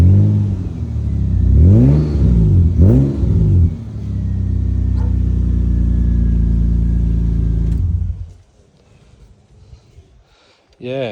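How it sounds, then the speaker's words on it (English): A 20-year-old Australian-built Mitsubishi engine revs up twice with a deep note, then holds a steady loud drone for several seconds before dropping to idle; no speech over it. "I'll give it a little rev"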